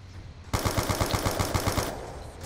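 An MP40 submachine gun firing in Call of Duty: Black Ops 2 Origins zombies mode, a single close rapid burst of about a dozen evenly spaced shots lasting over a second, then fading.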